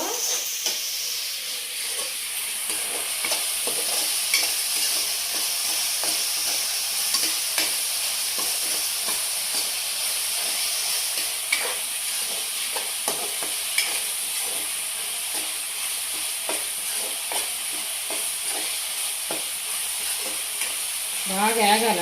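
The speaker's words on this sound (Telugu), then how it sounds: "ఉల్లిపాయ పేస్ట్ బాగా వేగితే మంచి స్మెల్ బాగుంటుంది" Onion paste for gongura chicken frying in a pan and stirred steadily, a continuous close sizzle with repeated scraping strokes and no talk.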